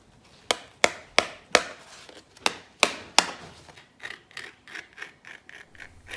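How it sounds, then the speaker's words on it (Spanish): Scissors snip out simple leaf shapes from layers of old bedsheet fabric stiffened until very hard, giving a series of crisp, close cuts in an uneven rhythm that grow softer and quicker toward the end, with no talking. "He dibujado la forma de unas hojitas sencillas y las recorto."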